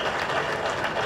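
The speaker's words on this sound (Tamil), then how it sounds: "எல்லாருக்கும் எங்க அம்மா நல்ல கைத்தட்டு கொடுத்துடலாம் அம்மாக்கு" A film event audience gives a warm round of applause for a speaker's mother, a brief, dense patter of many hands clapping at once.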